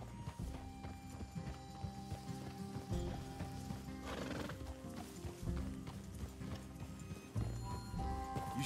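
Horses in the Red Dead Redemption 2 video game clop their hooves steadily and whinny, up close and fairly loud over a musical score.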